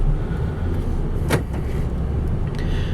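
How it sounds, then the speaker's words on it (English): A single sharp mechanical clunk of door locks engaging automatically, heard inside a 2004 Lincoln Town Car limousine over a steady engine and road hum. "Doors automatically lock."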